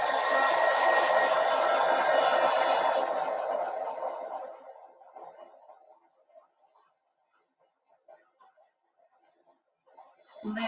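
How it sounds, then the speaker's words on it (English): A heat tool used for card making blows with a loud, close, steady roar for about four seconds, then winds down and fades out, followed by faint sounds and brief quiet talk. "I'm going to need my heat tool on."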